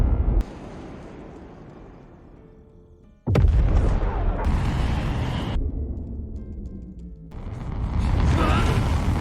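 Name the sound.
missile explosion in a film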